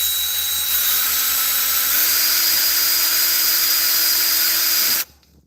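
Brushed corded power tool running, a loud steady high-pitched whine close by that rises slightly in pitch, then cuts off sharply near the end, with no voices.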